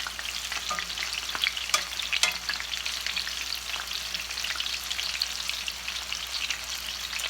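Chicken strips fry in a pan with a steady, dense sizzle and crackle, joined by a few faint clicks as pieces are turned, with no voices.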